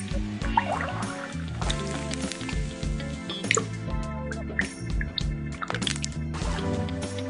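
Purified water drips in a commercial, several crisp droplets falling at uneven intervals over a steady musical bed, with no speech.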